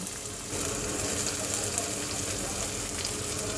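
Chopped onions frying in oil in a pan for a tengra fish curry, a steady broadband sizzle that rises after a brief quieter start and carries on evenly, with no speech.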